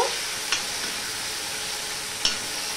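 Spices and ginger fry in a hot pan with a steady, close sizzle, while a spatula stirring through them gives two brief scraping knocks.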